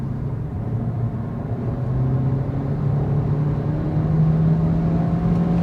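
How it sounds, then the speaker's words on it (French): A Renault Clio 5 hybrid E-Tech 145 accelerates hard from 70 to 110 km/h, engine drone climbing steadily in pitch and growing louder from inside the cabin, with no talking. "Alors là le moteur hurle."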